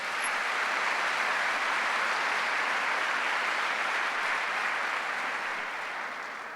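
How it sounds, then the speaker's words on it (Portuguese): A church congregation at a Sunday service breaks into sustained applause, a dense, steady wash of many hands clapping together that holds evenly before easing slightly at the end, with no voices standing out. "Dá um aplauso ao Senhor."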